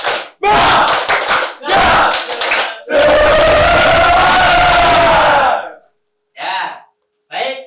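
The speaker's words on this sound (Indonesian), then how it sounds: "Ulangi sekali lagi, kurang kencang ya. 1, 2, 3, tepuk semangat." Schoolchildren in a classroom perform a rhythmic spirit clap chant, with bursts of loud clapping and shouting followed by a longer, sustained group yell that fades into brief scattered voices.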